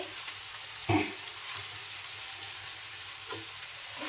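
Cooled cooked rice tipped into a hot pan and stir-fried for veg fried rice: a steady, close sizzling hiss with a couple of dull thumps and scrapes as the rice is tossed.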